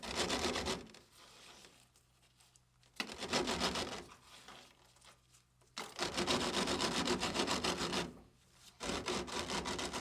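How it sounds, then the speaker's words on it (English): A strike-off plate dragged back and forth across fresh concrete in a sawing motion to level it, giving rough gritty scraping strokes in long bursts separated by brief pauses, close and with no talking. "Use the strike-off plate to level the surface, and use a sawing motion to produce a smooth surface."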